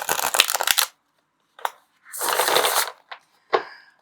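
A tarot card deck is shuffled in several short bursts of riffling and sliding cards, close and crisp, separated by brief silences.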